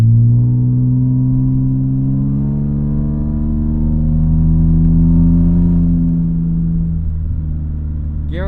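BMW E36 M3 with a 5-speed automatic accelerating hard in third gear, a loud close engine note whose harmonics climb steadily as revs rise, easing off near the end before a brief higher pitched sweep.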